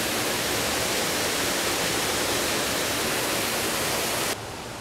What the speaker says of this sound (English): the backside of a waterfall.